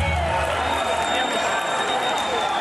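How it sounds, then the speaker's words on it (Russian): A concert hall audience claps and chants in a dense, steady roar of applause and crowd voices, loud and unbroken throughout. "Зал начал аплодировать и скандировать «Х**» войне."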